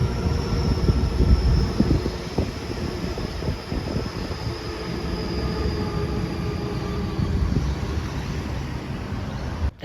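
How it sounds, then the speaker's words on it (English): An eight-coach Sydney Trains suburban electric passenger train, two T sets coupled together, passes at Eastwood in northern Sydney, a loud, steady rumble of wheels on rail with a faint squeal, lasting throughout. "The next passenger train we see heading north are two Sydney Trains T sets, coupled together"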